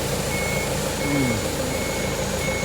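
A reversing truck sounds its backup alarm, evenly spaced short beeps repeating over a steady loud engine drone, with a brief lower tonal sweep in the middle.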